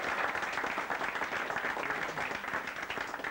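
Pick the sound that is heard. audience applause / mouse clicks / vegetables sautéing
audience applause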